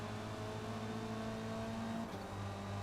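Race car engine in the Forza Motorsport video game, a steady loud drone with a small shift in pitch partway through as the car brakes into a corner.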